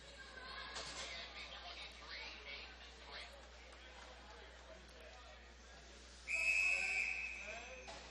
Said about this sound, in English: We get a whistle here